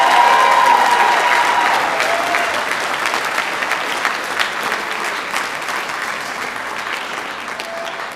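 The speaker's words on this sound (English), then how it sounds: "can you give a round of applause for our tech kids who are helping as well?" An audience at a school fine arts week event applauds the tech students with sustained clapping that starts strong and gradually thins, close and full, without speech over it.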